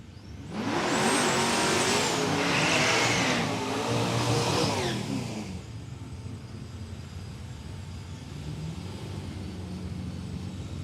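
A drag racing car at Palmyra Raceway launches with a loud, high-pitched engine roar that rises and holds for several seconds, then fades away into distant crowd and track ambience.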